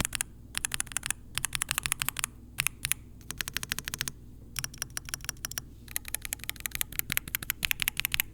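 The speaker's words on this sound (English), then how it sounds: "It's a nice keyboard." Fingers type rapidly on a computer keyboard with a small built-in screen, crisp close-up clicks arriving in quick bursts with brief pauses between runs, no talking.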